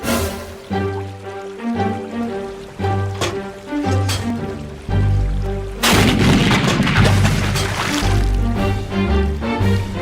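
Loud cartoon cannon booms burst out over an ongoing music score, with one big blast midway trailing into a sustained rumbling roar.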